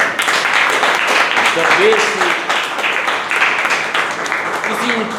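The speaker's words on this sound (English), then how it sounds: "let's clap for Toastmaster" Audience clapping at a Toastmasters club meeting, moderate group applause running under a speaker's voice throughout.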